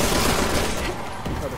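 Dense, muffled gunfire in Resident Evil 6 during a close-quarters fight, a thick continuous clatter of shots that eases slightly partway through, loud and near.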